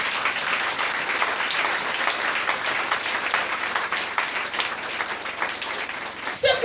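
A church congregation of the Église Primitive de Dieu en Christ applauds in a dense, steady roar of clapping that fills the whole stretch at full strength, breaking off abruptly right at the end.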